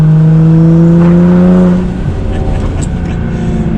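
A Nissan GT-R is driven at full throttle around a turn on a country road, its loud engine holding a rising, tonal wail before the pitch drops abruptly and continues to roar.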